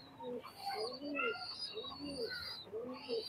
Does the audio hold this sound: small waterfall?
no